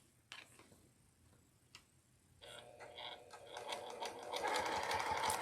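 A sewing machine top-stitches a fabric tissue box cover, starting with a few isolated ticks and then running into a steady, rapid whirring stitch that grows louder toward the end, close up with no talking.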